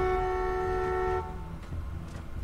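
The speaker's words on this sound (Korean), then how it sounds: "빵빵은 좋았어." A car horn blares in The Walking Dead Season 2 video game, one sustained loud honk lasting over a second, then cut off, leaving quieter background sound with no talking.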